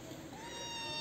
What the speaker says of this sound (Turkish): Güzel kedi, ala kedi.